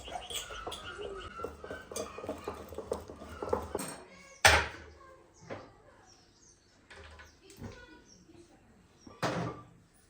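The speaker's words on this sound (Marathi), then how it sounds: "यामध्ये हे स्टँड ठेवते आपलं केक ठेवण्यासाठी आणि झाकून ठेवते" Metal pot being handled in a home kitchen while a cake is prepared, with clinks and clatters as a stand is set inside and a lid is placed over it, including one sharp loud knock, while someone talks throughout.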